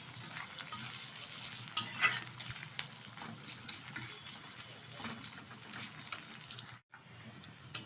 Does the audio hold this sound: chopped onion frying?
yes